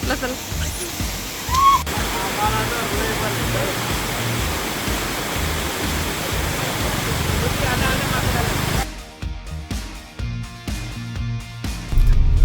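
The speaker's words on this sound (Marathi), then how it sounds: "आपण अजून थोडा वेळ वॉटरफॉल पाहूया" A steady, roaring rush of a waterfall in the Konkan region during rain, with muffled voices faintly mixed in and a brief rustle near the end.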